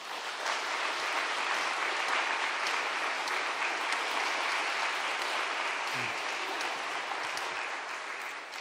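A church congregation claps to welcome a pastor to the front during a Sunday afternoon service, dense sustained applause from a large room that holds steady and eases slightly at the end.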